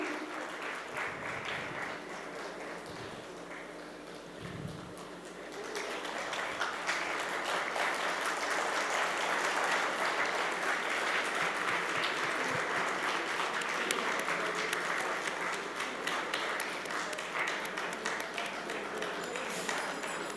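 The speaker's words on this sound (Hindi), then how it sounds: "एक बार ज़ोरदार तालियों के साथ हमारे अगले स्पीकर का स्वागत" An audience applauds to welcome the next speaker onto the stage, a steady wash of clapping that swells after a few seconds and holds, fairly distant and moderately loud.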